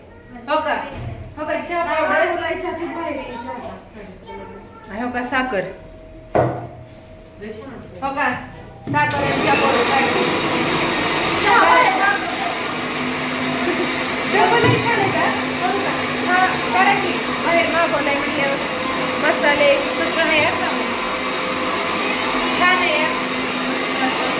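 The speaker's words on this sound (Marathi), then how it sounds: "मिक्सरचा आवाज आहे इकडं" People talk at first in a hotel restaurant, then a kitchen mixer grinder starts with a loud, high whirring motor that runs without a break to the end.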